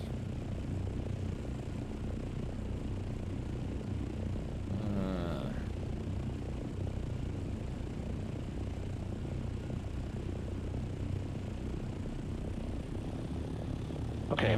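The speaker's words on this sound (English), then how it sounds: "I'm just making sure that chopper sound I'm hearing is people from our team." A helicopter flying in the video game Dune: Awakening makes a steady, droning engine rumble that holds at an even level throughout, with a brief, higher whine rising midway.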